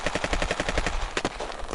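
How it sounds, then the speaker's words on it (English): Rapid bursts of suppressed gunfire rattle in a fast, close, evenly spaced series, with one sharper crack near the end and no voices. "Silenced gunfire tore through the trees where the wolf had just been standing"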